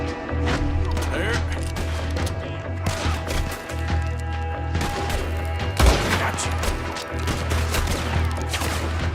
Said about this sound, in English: I can't move for all this shooting!